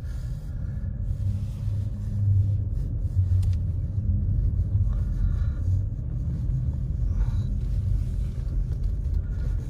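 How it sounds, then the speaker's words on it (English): A car drives off-road on an icy, snowy mountain road after a snowfall near Big Bear, giving a steady low engine rumble and tyre noise that hold level throughout, with no talk. "we're driving on ice"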